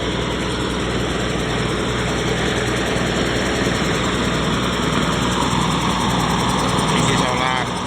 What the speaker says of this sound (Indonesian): kita menghidupkan mesin guys pagi-pagi